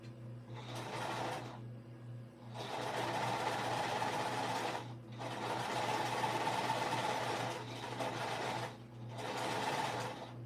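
A sewing machine runs top stitching across a shoulder bag in steady, close bursts of rapid whirring, pausing briefly between each run of stitches.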